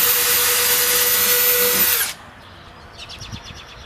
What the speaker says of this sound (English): Okay, now I'm going to drill another hole.